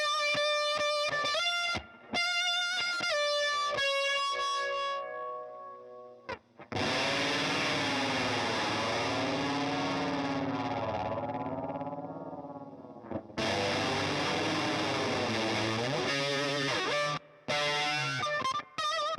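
Electric guitar heavily processed through a chorus pedal set to minimum speed and maximum depth plus an octave fuzz pedal, loud and sustained, with chords giving way to a thick, warbling distorted wash.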